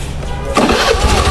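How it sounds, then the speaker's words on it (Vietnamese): A Honda Air Blade 110 scooter with a stalling fault cranks briefly, then its engine catches and settles into a steady mid-pitched running hum, close and loud. "mình sẽ đề máy này"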